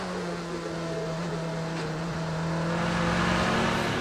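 Onboard sound from a Toyota endurance race car at the 6 Hours of Monza, a loud steady engine drone with a strong low harmonic that gradually rises in pitch and volume as the car accelerates.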